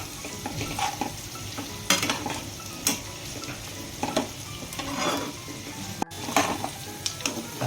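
Cashews and almonds frying and being stirred in a pan while cooking jowar upma: a steady sizzle with repeated scraping and clinking stir strokes, close and fairly loud, with no talking.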